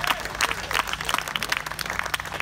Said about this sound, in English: can we clap a little louder for this great band?